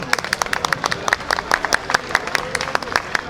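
An audience at a Trabzon culture gathering in Yenikapı, Istanbul, claps in sustained applause, a brisk patter of many hands close and loud, with a voice speaking faintly over it.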